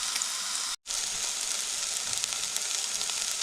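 Red pepper and onions sizzling in a pan, a steady bright frying hiss broken by one brief gap, close and alone without speech.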